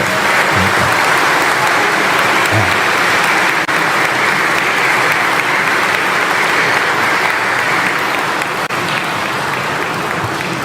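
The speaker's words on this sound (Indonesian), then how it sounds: "mari kita sekali lagi tepuk tangan untuk" Steady applause from a large church congregation fills the space for the full stretch, dense and continuous at a constant loud level, celebrating the welcome of a new bishop in the Diocese of Surabaya cathedral.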